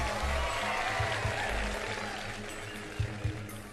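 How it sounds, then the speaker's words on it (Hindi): A studio audience on a game show claps for answer C, a steady patter of many hands that slowly fades, followed by a few scattered louder claps. "जिनको लगता है सी सही है तालियां।"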